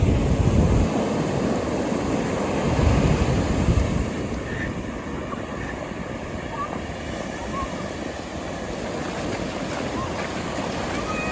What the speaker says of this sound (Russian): Волны офигенные.